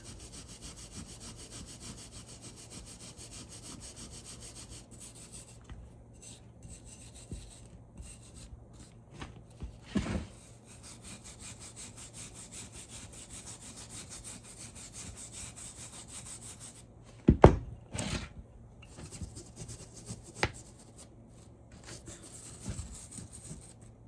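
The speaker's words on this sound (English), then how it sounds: "I'm going to hit this one more time now. Just making sure we can get that final bit of rust off of there." Rust is scrubbed off a Zenith 9-S-262 tube radio chassis with steady, continuous rubbing strokes at close range, broken by a few sharper knocks and scrapes late on.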